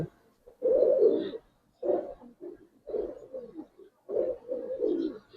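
Pigeons coo close by in a quiet space, a series of low, throaty phrases in short bursts separated by brief pauses, with no talk.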